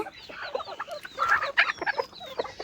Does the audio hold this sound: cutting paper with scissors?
no